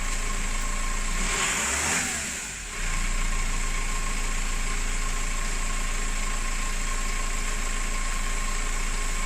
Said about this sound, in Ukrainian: Демпфера чути, бачите, щеплення вижимаю.